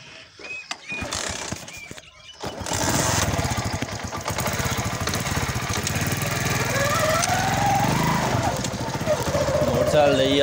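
A motorcycle engine fires up and settles into a steady, loud idle close by, its continuous rumble filling the scene after a brief quiet gap, with a home setting around it.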